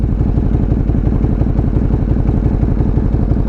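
A motorcycle engine runs steadily on an expressway, a loud, close, throaty rumble with a fast even pulse throughout and no talking.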